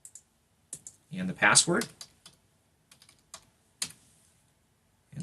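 Keyboard typing of a username and password into a computer login screen: several quick bursts of clicky keystrokes, close and moderately loud, with a brief spoken phrase between them.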